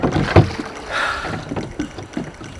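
Oars splash and knock against a small rowboat on choppy Lake Bled, Slovenia, with gusts of wind rushing across the microphone between the strokes.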